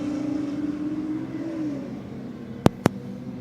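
A Falcon car launches at a night drag race at Sydney Dragway, its engine note rising then fading under steady crowd and track ambience, followed by two sharp clicks near the end.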